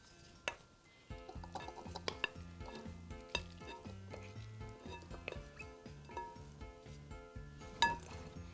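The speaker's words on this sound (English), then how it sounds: "Best part is mixing because all the ingredients come together." Wild rice salad ingredients tossed together in a bowl, giving soft stirring scrapes and light clinks of a utensil, quiet beneath steady background music.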